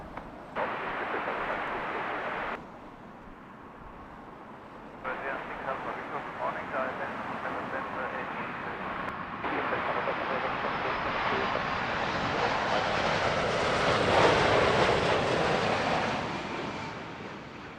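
A WestJet jet aircraft at Heathrow Airport roars past, its broad engine noise swelling to a loud peak and easing off, with gusts of wind across the microphone and people talking over it.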